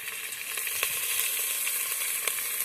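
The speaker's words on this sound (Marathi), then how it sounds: "तर यामध्ये तेल टाकलेलं आहे आणि आता पुन्हा आपल्याला चांगलं हलवून घ्यायचं आहे तर थोडा वेळ असं तळून घ्यायचं आहे" Oil sizzling steadily in a hot pan while spices for masale bhat are stirred and fried, a dense continuous hiss with a few soft scrapes, close and alone.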